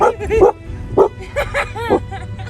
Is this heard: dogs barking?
yes